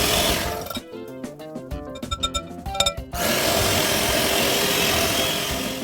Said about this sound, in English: I'll be using the hand mixer